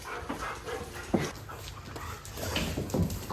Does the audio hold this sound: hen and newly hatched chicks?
no